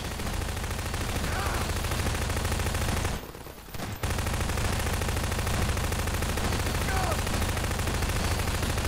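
Automated gun turrets firing in Half-Life 2 Episode Two, a continuous loud stream of rapid shots that cuts out for under a second before carrying on, with voices underneath.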